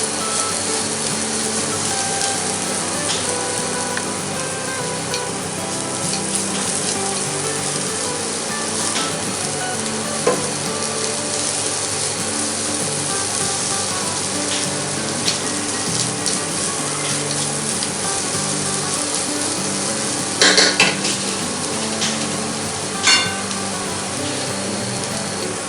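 Onion filling for pyaz kachori cooks in a pan with a steady, continuous hiss and sizzle, close and fairly loud, broken by a few faint clinks of a utensil and no talking.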